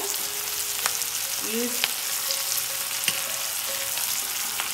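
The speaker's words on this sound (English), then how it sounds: "we are going to fry all the masalas" Onion and masalas fry in a pan for a steamed fish wrap recipe, giving a steady close sizzle with a few light clinks and stirring scrapes, while a voice speaks briefly.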